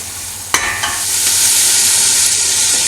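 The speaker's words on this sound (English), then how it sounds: "So just to make sure not to burn the garlic, just keep stirring." Onions and garlic fry in a pan with a steady bright sizzle, a few sharp clatters of stirring near the start, then continuous loud crackling hiss with no voices.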